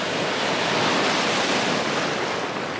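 Steady ocean surf on the Bornholm coast, a dense continuous wash of breaking waves with wind rush, loud and unbroken throughout.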